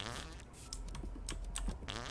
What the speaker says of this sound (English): Why did I fart?